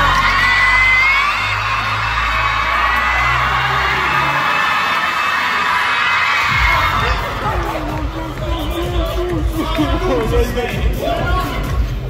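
A live audience at a Toimistopojat show shouts and cheers as one sustained, loud crowd roar that spans the whole stretch and grows rougher and more uneven toward the end.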